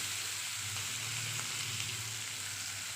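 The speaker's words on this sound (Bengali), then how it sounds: "মশলাগুলো দিয়ে দিচ্ছি আদা রসুন কাঁচা লঙ্কা টমেটো" Ginger, garlic, green chili and tomato fry in a pan with a steady, dense sizzle that holds evenly throughout, close and continuous with no voices.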